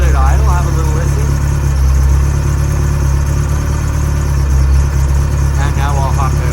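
A 14,000-mile 1987 Ferrari Testarossa idles steadily up close, its engine giving a constant deep, throbbing rumble with a busy whir on top, with faint talking in the background.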